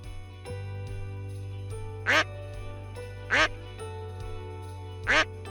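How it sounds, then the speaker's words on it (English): A duck quacks three times in loud, evenly spaced bursts over a steady background tone, with a brief jingle near the start. "What sound does a duck make?"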